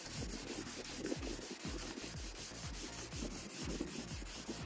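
A foam block is wet-sanded across a painted panel outdoors, making a quiet, rhythmic back-and-forth rubbing with evenly spaced strokes that repeat steadily, close by and faint.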